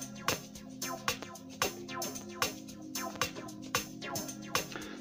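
A self-made synth instrument called dot tilers, built in FL Studio Mobile, plays a repeating rhythmic pattern of plucky notes over a steady low bass pulse, with no voices.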